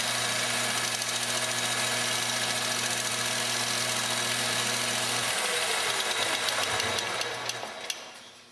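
Brass medallion blank turning on a metal spinning lathe while being lubricated with a block of paraffin; a loud, steady motor hum with a constant low drone fills nearly the whole clip, then the drone drops away and the run winds down near the end.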